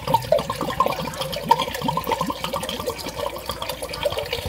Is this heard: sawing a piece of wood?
no